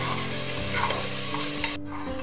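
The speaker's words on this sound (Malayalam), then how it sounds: "അല്പസമയം ഒന്ന് ഇളക്കി കൊടുക്കണം." Onions fry for beef vindaloo with a steady sizzle as a spoon stirs them in the pan, close and continuous, with a brief scrape near the end.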